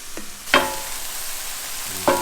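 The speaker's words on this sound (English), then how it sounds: "I'm going to let that beer start to soak into everything and cook down" Chorizo sizzles in a pan after a splash of beer, a steady close hiss broken by a few sharp scraping clanks of a utensil against the pan, with no one talking.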